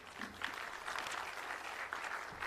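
Audience applause for a speaker at a formal conference hall event hosted in Arusha, Tanzania: a dense, sustained clapping from a large crowd, moderately distant and steady throughout.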